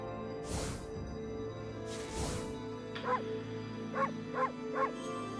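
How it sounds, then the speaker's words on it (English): Amaterasu, the white wolf in the video game Ōkami, gives several short barks in quick succession over a steady layer of game music and ambience. "We can bark."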